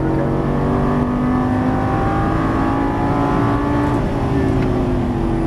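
A Lamborghini Gallardo LP550 accelerates hard on a race track, its engine roaring loud and close with rising harmonic tones that climb steadily and shift through gears, a continuous strained drone throughout.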